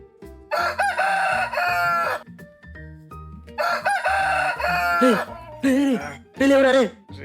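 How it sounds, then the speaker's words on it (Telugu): A rooster crows loudly and close by in a rural village setting, several long cock-a-doodle-doo calls in succession with brief pauses, heard mostly alone. "కోడి కూసిందిరా"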